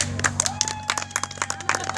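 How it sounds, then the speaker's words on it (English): A crowd at a comedy show applauds with dense, continuous clapping, fairly close and lively, lasting a couple of seconds. "we give you a big round of applause"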